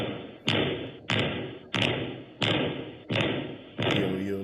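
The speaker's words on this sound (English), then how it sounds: "Guy's kicking in that door" A rotted door being kicked in, six heavy thuds landing at a steady, evenly spaced rhythm, each a loud, close impact that quickly fades before the next.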